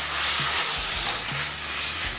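Chicken and pre-fried potatoes sautéing in a pan over medium flame, a steady bright sizzle with a few soft stirring scrapes, close and alone without talk.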